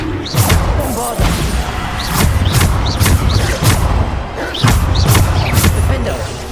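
Repeated Bombarda spell explosions in Hogwarts Legacy go off in quick succession, punchy booms and thuds with crashing debris, mixed with shouted spell incantations and combat noise.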